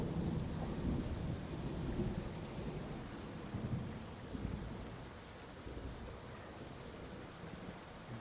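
Heavy rain pours down steadily on a garden at a house in Sicily, a dense continuous hiss with faint low rumbles mixed in, and no voices.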